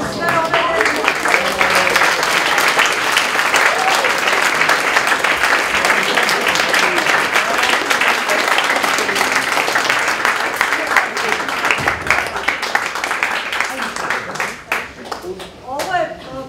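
An audience at a school IT talk at a computer gymnasium in Novi Sad gives sustained applause, dense close clapping that carries for many seconds before thinning out near the end, with voices mixed in.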